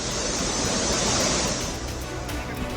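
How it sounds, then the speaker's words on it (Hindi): Floodwater after heavy rain in Dehradun, a dense, loud, continuous rushing roar with no pauses and no voices. "सड़कों पर सैलाब की शक्ल में बारिश का पानी,"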